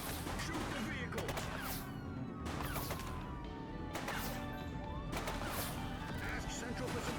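Gunfire in The Precinct video game, dense bursts of shots and impacts crashing over continuous game noise, with voices shouting throughout.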